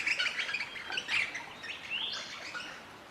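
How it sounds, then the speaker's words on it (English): Several birds chirp and tweet in quick, overlapping high calls, fairly close and steady throughout, with a soft outdoor hiss underneath and no talking. "You hearing these birds?"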